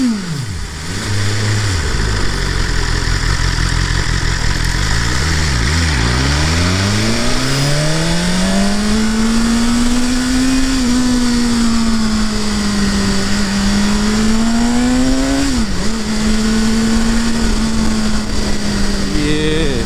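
A BMW S1000RR M package superbike runs at high revs on an open road, its engine note surging and dipping steadily for the full stretch, loud and close, with wind rush underneath.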